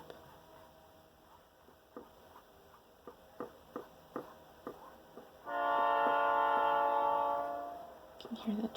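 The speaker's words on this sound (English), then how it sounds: "You can hear the train going by." A passing train sounds a sustained, horn-like tone that swells for about three seconds and then fades, following a run of soft, regular ticks in an otherwise quiet indoor room.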